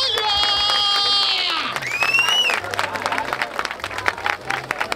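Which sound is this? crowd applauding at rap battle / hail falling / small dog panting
crowd applauding at rap battle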